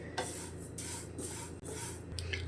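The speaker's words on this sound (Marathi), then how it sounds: "तीळ मस्त असे परतून झाले, त्यांचा चटचट आवाज पण येतोय" Sesame seeds roast over low heat in a pan, giving a quiet, continuous rustling crackle broken by a few scraping stirs. No one speaks.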